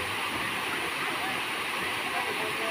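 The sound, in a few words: Bolinao waterfall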